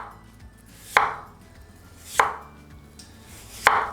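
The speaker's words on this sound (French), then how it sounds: "je vais couper mes pommes de terre en tranches." A knife cuts potato slices for tartiflette on a board, with three distinct, evenly spaced thunks over a few seconds, close and quiet, with no talking.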